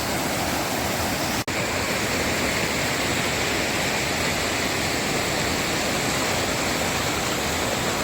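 Steady, loud rushing of a river flowing through forest at Paniyeli Poru fills the whole stretch, a continuous broadband roar close by, with no voices.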